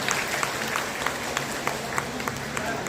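An audience applauds gifted children at a Women's Day award event on stage, a steady mass of clapping with a few sharp individual claps standing out near the front.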